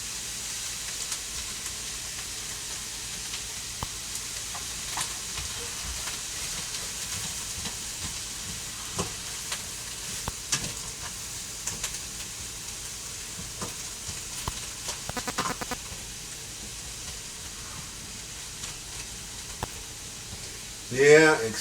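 Chopped red bell pepper, green beans and potato frying in oil in a pan for a Thai-style dish, a continuous soft sizzle broken by scattered clicks and scrapes of stirring, with a louder scrape at the end.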